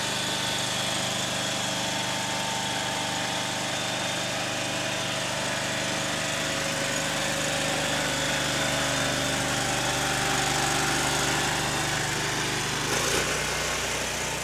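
A petrol-powered lawn engine runs steadily and fairly close for the whole stretch, holding a constant drone with a brief shift near the end, during a fall cleanup job.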